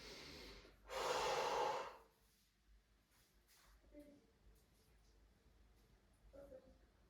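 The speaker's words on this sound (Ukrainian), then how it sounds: "Поїхали вдих." One deep, forceful inhale through the nose lasts about a second near the start of a breathing exercise for abdominal strength. Quiet, softer breaths and small rustles follow, close to the microphone.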